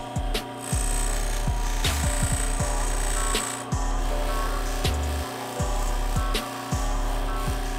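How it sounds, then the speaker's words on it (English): A bench grinder's finer wheel whines steadily as dirt bike fork parts are pressed against it, the grinding rising and dropping in repeated passes with brief pauses between them, loud and close. "I'm gonna clean these up with the finer wheel on the bench grinder."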